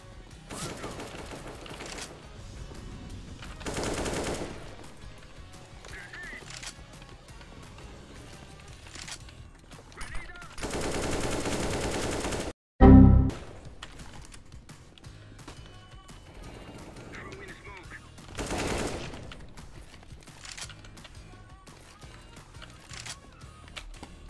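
AK-47 rifle fire in Counter-Strike: several sustained automatic bursts, one long and loud near the middle, separated by quieter stretches of game ambience.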